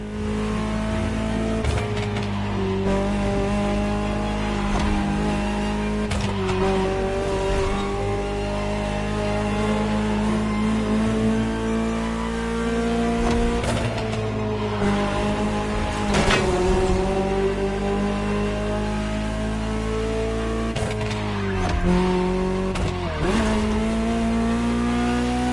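A Ferrari supercar in The Crew video game drives with a steady, loud engine drone whose pitch climbs and drops through repeated gear shifts and revs, running without pause.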